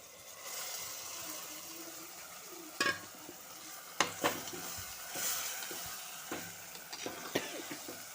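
Ground curry leaf paste frying in a pan, a soft continuous sizzle broken by several sharp scrapes and clinks of a spoon stirring against the metal, close and fairly quiet with no talking.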